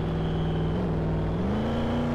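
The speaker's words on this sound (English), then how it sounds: "I'm pulling the burnout." A car doing a burnout in the Roblox game gives off a loud, steady engine drone that holds level, then climbs in pitch near the end, with no talking.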